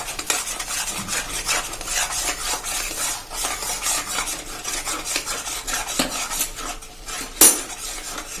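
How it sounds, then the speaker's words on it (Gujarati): A spoon scrapes and stirs jaggery mohanthal batter in a pan while milk is added, giving continuous close scraping and clinking that runs steadily throughout, with a sharp clink near the end. "હજી આપણે 1 ટેબલ સ્પૂન જેવું દૂધ નાખી દેશું અને આપણે હજી આને કન્ટિન્યુ ચલાવતા રહેશું"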